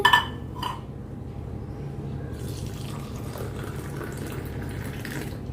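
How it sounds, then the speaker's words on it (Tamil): Rose milk mix for homemade ice cream pours back and forth between vessels to cool, a close, continuous watery splash after a couple of brief metallic clinks at the start. "இப்போ நம்ம இதை ஆற்றி பார்ப்போம்."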